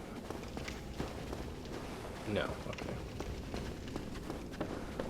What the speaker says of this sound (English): there's like these little footsteps I keep hearing